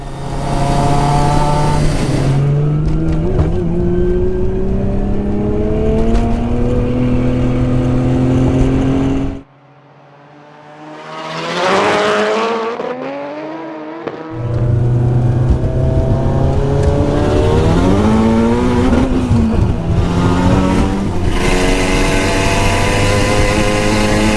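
Three Nissan drift-style S-body cars, a 530 hp S13, 640 hp S14 and 600 hp S15, race side by side in a drag race, engines loud and revving hard through gear changes, with a brief quiet gap before the roar resumes.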